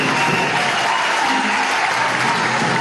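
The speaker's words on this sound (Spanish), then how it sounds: "Vamos a darle un aplauso a Pedro." A crowd at a political party meeting breaks into loud, sustained applause, a dense wash of clapping that fills the hall for a few seconds.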